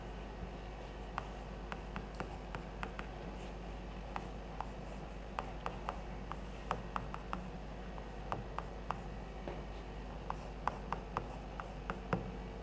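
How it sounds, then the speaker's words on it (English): Chalk or marker writing on a board during a physics lecture: faint, scattered scratchy strokes and small taps spread irregularly through a quiet room, with no talk. "Maybe I write it here."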